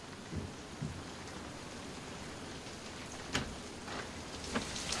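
Steady rain falls outside in a continuous wash of noise, with occasional louder gusts or drips and a faint thunder-like rumble low underneath; no one speaks.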